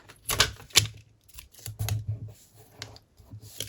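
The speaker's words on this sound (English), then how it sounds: "I'm going to use a little bit of tape" Tape pulled and torn to hold an aluminium can sheet in place while crafting, several close crackling rips and sharp clicking snaps in irregular bursts.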